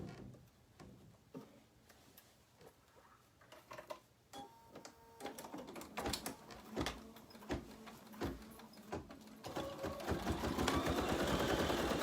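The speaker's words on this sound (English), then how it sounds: "now we're stitching again" An embroidery machine stitches in quick repetitive ticking bursts, starting sparse and growing denser and louder as the run picks up speed.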